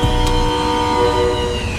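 A train in Call of Duty Warzone rumbles close by with a low mechanical drone, clattering wheels and a long sustained horn-like tone, loud and continuous without speech.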